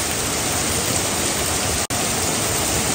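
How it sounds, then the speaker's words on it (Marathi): Heavy monsoon rain on a forest trek to Vibhuti Falls, a dense unbroken roar of downpour that fills everything, loud and close, with one abrupt split-second dropout near the middle and no voices. "गाइस पाऊस वाढलाय बेकार एकदम"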